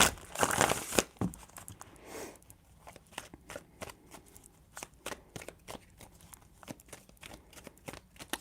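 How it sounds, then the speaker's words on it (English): Tarot cards are shuffled close by, opening with a loud burst of riffling and then settling into soft, irregular card slaps and rustles, with no talk over them. "Three shuffles."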